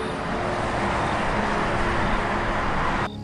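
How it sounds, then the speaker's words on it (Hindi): A car cruising down a highway gives a steady, loud wash of road and engine rumble that holds without change, then drops off abruptly just before the end. "मानव की गाड़ी फिर से हाईवे पर फराटा बढ़ने लगी।"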